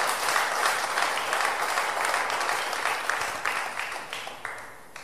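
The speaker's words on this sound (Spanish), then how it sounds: "fuerte ese aplauso al Señor." A church congregation applauds during a Spanish-language sermon, steady hand clapping that swells early and then gradually thins and fades toward the end, with no voices over it.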